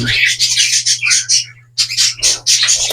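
A mother bird and her young call in quick, high, squawking chirps, loud and close, with a brief lull partway through and a low steady hum underneath.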